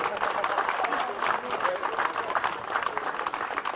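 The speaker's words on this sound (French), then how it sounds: "Donc on peut applaudir également les services municipaux et les agents" Crowd at an outdoor town festival in Allonnes applauds the municipal services and staff, a continuous patter of many hands clapping at a moderate distance, with voices mixed in.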